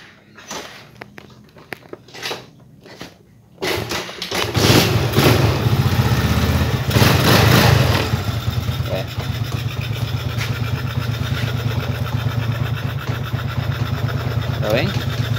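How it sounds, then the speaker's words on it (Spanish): A motorcycle is kick-started without a key: a few dull thumps and clatters from the kick lever, then the engine catches with a loud roar and settles into a steady, close, throbbing idle. "vas a patear y la moto te va a arrancar correctamente"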